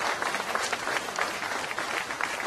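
A crowd at a business evening event applauds, continuous thick clapping from many people, fairly loud throughout.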